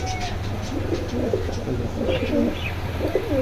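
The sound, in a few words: pigeons cooing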